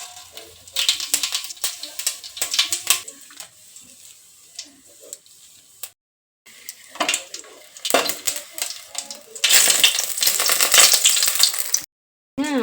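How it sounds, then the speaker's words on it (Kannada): Cumin and mustard seeds hitting hot oil in a pan, with bursts of crackling sizzle and popping between utensil clinks and quieter gaps, growing louder and denser near the end, close to the mic. "ಆಯಿಲ್ ಹಾಕಿದೆ ಎಣ್ಣೆ ಬಿಸಿ ಆಗ್ತದೆ ಇದಕ್ಕೆ ಜೀರಿಗೆ ಮತ್ತು ಸಾಸಿವೆ"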